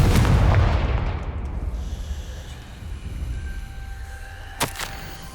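A Confringo fire spell blasts off in Hogwarts Legacy, a loud booming burst at the start that rumbles and decays over a few seconds, followed by a brief sharp crackle near the end.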